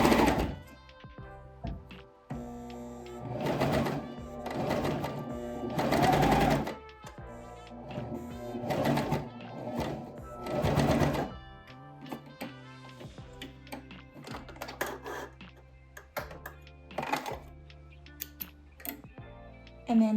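A cover stitch sewing machine hems the sleeve of a knit T-shirt, running in several loud bursts of a few seconds each with quieter handling pauses between them.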